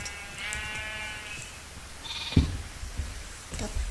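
Several Minecraft sheep bleat in short, wavering calls, moderately close, over faint background noise with a soft thump partway through.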